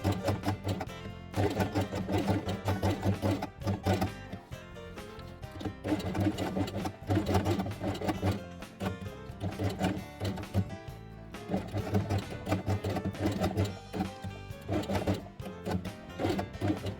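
A sewing machine runs in long steady bursts, stitching grey felt pieces along their edges with grey upper and lower threads, its rhythmic mechanical whir close and continuous with brief pauses between runs.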